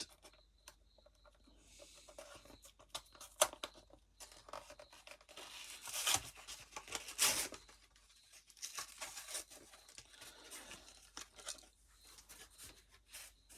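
A diecast De Tomaso Pantera being torn off its blister card, quiet crinkling plastic and cardboard with a couple of sharp ripping bursts in the middle, close and faint, no talking.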